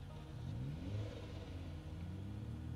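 A damaged car in the Project Zomboid video game gives a low, uneven engine rumble with faint revving swells, steady and fairly quiet throughout.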